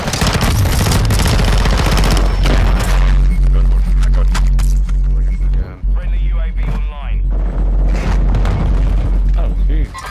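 Loud, heavy booms from rocket explosions pound alongside bursts of gunfire in a video game battle, dense and close, with voices briefly heard in between.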